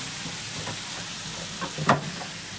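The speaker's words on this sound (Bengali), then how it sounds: "পেঁয়াজ কলি ভাজা ভালো মতো" Onion stalks fry in a pan with a moderate, steady sizzle and a short louder hiss or spatter near the middle. No talk is heard.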